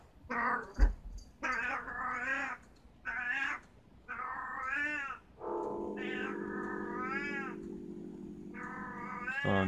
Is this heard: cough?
no